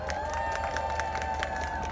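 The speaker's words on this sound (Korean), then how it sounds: "다시 한번 큰 박수 부탁드립니다" Crowd cheering and clapping at an outdoor election campaign rally in Gwangmyeong, South Korea, a steady, dense wash of noise with a sustained tone running through it.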